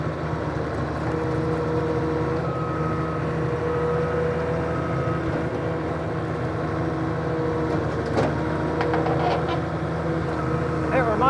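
A rented bulldozer crawls slowly along a rocky road near a stone bridge, its engine a steady droning rumble throughout with a few clanks and scrapes near the end.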